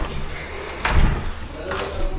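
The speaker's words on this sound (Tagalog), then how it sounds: "Tapos ito po yung likurang pintuan." The back door of a transient house in Sorsogon bumps open with a solid thud, followed by a softer knock, amid low room noise.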